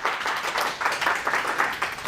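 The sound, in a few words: applause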